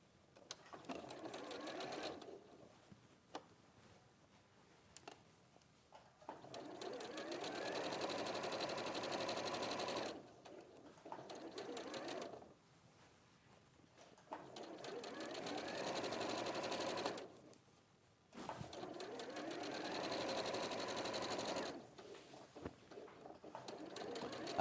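A sewing machine stitches a straight line of fabric in several long, steady runs broken by short pauses, with quiet talk and background noise between bursts.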